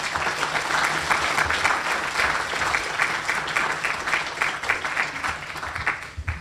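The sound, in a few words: audience applause after a talk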